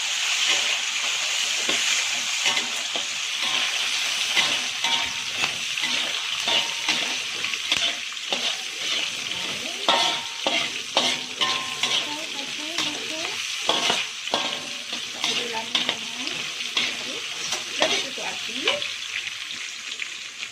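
Chopped tomatoes and onion with bird's eye chillies frying in a pan for Arab kabsah rice: a continuous loud sizzle with frequent spatula scrapes and clatter, close and unbroken throughout.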